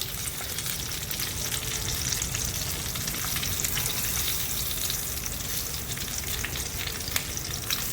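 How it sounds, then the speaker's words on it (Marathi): Green chillies stuffed with chicken keema fry in a pan with a steady, dense sizzle that stays loud and even throughout, close up, with no talking. "आपल्या मिरच्या अशा छान खरपूस भाजून झाल्या आहेत"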